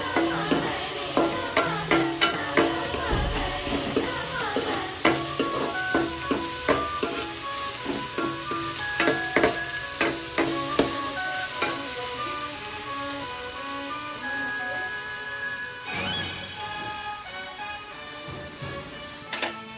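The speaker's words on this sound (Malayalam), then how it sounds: "മല്ലിയില അരിഞ്ഞ കൂടെ ചേർത്ത് ഒന്ന് മൂപ്പിച്ചെടുത്തിട്ട് അതിനോട് മസാലപ്പൊടി ചേർക്കാം." Coriander leaves and masala powder sautéing in a pan for egg curry, with a steady sizzle of frying and repeated sharp scrapes of a spoon stirring throughout, close and fairly loud with no talk.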